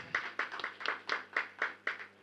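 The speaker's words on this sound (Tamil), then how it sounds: "இந்த மன்றத்தின் சார்பாக ஒரு கரகோஷம் கொடுத்தீங்கன்னா நல்லாயிருக்கும்" At an astrology talk gathering, an audience claps in a steady unison rhythm, about nine sharp claps in just over two seconds, fairly close, over a faint low hum.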